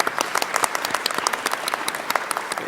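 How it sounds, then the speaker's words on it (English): A conference audience at a climate legislation event bursts into dense, steady applause, many hands clapping at close range for a few seconds with no voices over it. "he deserves that applause"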